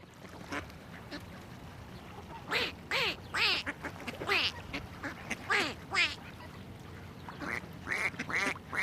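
Duck quacks in a children's song about a duck, a series of loud, nasal, repeated quacks in bursts, several in quick succession, standing out over a quiet background.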